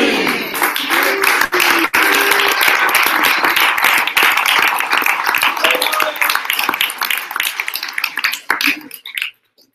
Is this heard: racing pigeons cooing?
no